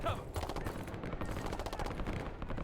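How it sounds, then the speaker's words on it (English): Continuous heavy gunfire in a Call of Duty: Black Ops 6 campaign battle, rapid bursts packed densely for the whole stretch, loud and close with steady crackle throughout. "We've got gunfire to the right."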